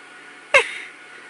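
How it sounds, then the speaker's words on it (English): A single short, sharp sneeze from a vulture with pneumonia, a sudden breathy burst standing out from quiet background hiss. "The vulture has got pneumonia and is sneezing."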